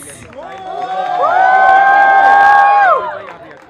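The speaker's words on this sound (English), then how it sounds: "Let's give them a huge round of applause" An audience at a dance performance event cheers and applauds for a couple coming on stage, a loud crowd swell of clapping and whoops over a sustained tonal sound that rises, holds, then drops off.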